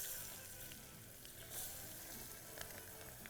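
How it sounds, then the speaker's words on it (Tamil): Two handfuls of onions frying in a pan with cinnamon, cloves and bay leaf for kichadi, a faint steady sizzle with small crackles and pops throughout. "இந்த வெங்காயத்தையும் பட்டை, லவங்கம், பிரிஞ்சி இலையை போட்டு நல்லா வதக்கிடுறோம்."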